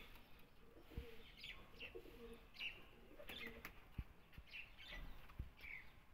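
Grey pigeons cooing in soft, repeated low calls with a few chirps and faint wing movement, moderately close and quiet, with no voices.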